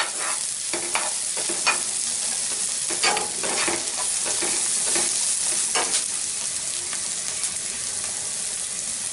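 Cubed onions, about a cup, frying in a pan give a steady close sizzle, with spoon-stirring scrapes and clinks recurring every second or so.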